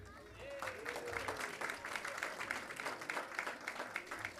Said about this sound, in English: with a round of applause, are going to be in our Pachala program